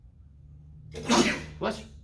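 A close, sharp sneeze indoors in a lecture setting: a loud burst followed by a second shorter one, over a faint steady hum.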